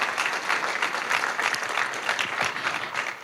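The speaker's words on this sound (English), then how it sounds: "give a round of applause to the organizers" A conference crowd applauds steadily, dense clapping sustained at an even loudness throughout with no pauses.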